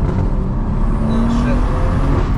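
A heavily modified 460 bhp BMW M140i drives hard, its engine a steady loud drone and road roar heard from inside the cabin, with a slight pitch rise partway through.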